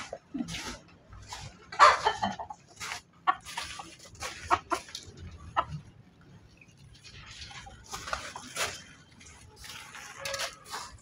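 Domestic backyard chickens cluck in short, scattered bursts at moderate distance, quiet and intermittent with no talking.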